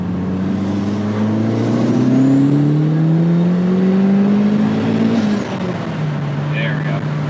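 A turbocharged Mazda Miata NB pulls hard in second gear, its engine note climbing steadily for about five seconds before a shift drops the pitch, loud and close, with turbo whine above the engine.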